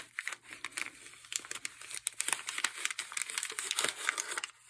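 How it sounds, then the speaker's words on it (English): Foundation paper is pulled and torn out from the back of a pressed quilt block, giving close, irregular bursts of crinkling and ripping with no talking. "Now I'm ready to pull this paper out."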